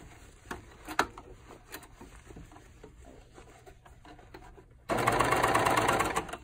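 A coverstitch sewing machine stitches a seam in one loud, steady whirring burst of just over a second, preceded by quiet handling clicks and rustles of fabric.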